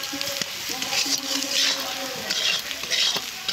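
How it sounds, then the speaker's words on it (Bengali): Spice masala with turmeric being stirred and fried in a pan, a steady sizzle with scraping strokes of a spoon; a faint voice murmurs in the background. "এইভাবে কষে নেব।"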